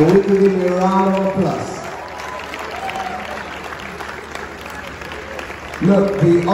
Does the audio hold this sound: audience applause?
yes